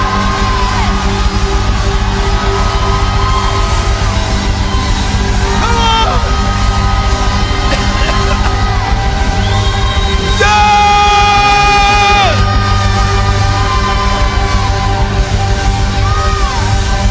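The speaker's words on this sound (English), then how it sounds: "Just for about 30 seconds, raise up your voice and shout." A large crowd at a religious gathering shouts, whoops and cheers loudly and without pause, a dense roar of voices with some higher yells rising above it.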